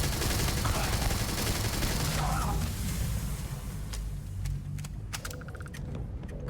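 Rapid, dense gunfire rattles on continuously during a Starfield firefight, with scattered sharp clicks and muffled effects mixed in toward the end.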